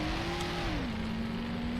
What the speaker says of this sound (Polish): Ten dźwięk silnika, naprawdę.